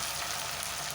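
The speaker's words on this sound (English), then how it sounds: "As this is frying," Ginger garlic paste frying with minced mutton in a pan, giving a steady, close sizzle that stays even and unbroken throughout.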